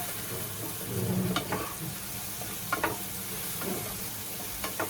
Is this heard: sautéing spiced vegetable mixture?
yes